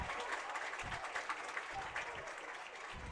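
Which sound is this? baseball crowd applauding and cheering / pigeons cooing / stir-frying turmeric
baseball crowd applauding and cheering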